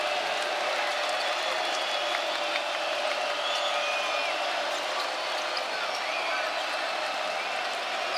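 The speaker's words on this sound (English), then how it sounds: "Here comes the crowd again." Arena crowd at a Louisville vs. Miami ACC men's basketball game at the Watsco Center roars and applauds steadily, a dense, loud wash of cheering that holds throughout with faint bounces beneath.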